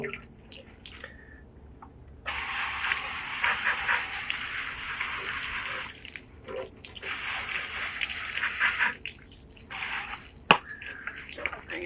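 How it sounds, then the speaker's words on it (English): Tap water from a hose spraying over aquarium canister filter parts, a steady loud hiss in several bursts with brief pauses and drips between, close by, with a sharp clunk near the end. "I'm going to hose this off with regular tap water."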